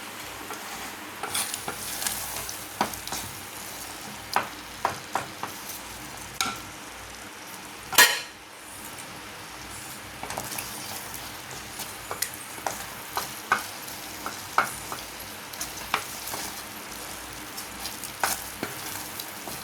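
Egg masala gravy cooks in a pan while a spoon stirs it, giving soft scraping clicks and a low steady sizzle, with one louder clatter partway through; no voices.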